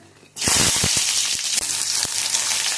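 Chana dal and urad dal fry in a pan for sundaikai thuvaiyal, a loud, steady sizzle that bursts in suddenly and stays close, with a few soft stirring scrapes.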